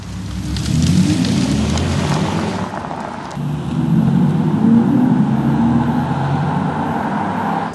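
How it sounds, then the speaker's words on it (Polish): Audi Q6 e-tron quattro (2025) electric SUV with its simulated e-tron Sport Sound, a steady synthetic low hum and drone that dips briefly midway, then resumes under road and tyre noise while driving. "więc ponownie za sprawą pakietu Tech Pro dorzuca na pokład e-tron Sport Sound."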